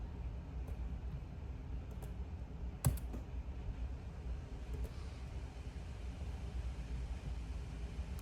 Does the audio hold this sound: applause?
no